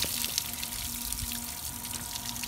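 Dirty water from extracting coffee stains out of a car seat pours and splashes steadily into a container, a continuous close liquid rush.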